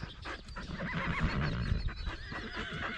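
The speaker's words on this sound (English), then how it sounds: "But there's a horse waiting to come out." A Paint horse neighing in a field on a ranch, a loud close whinny with shaking, descending pitch over rustling and light hoof movement, no talk.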